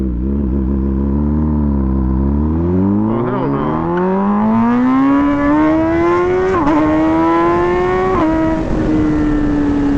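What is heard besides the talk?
sport motorcycle with titanium exhaust riding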